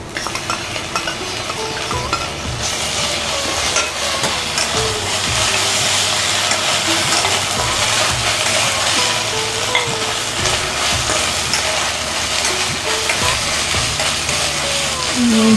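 Ginger and garlic sautéing in a pan with onion and green chilies for chana masala, a continuous loud sizzle with occasional spoon stirring and faint clinks throughout.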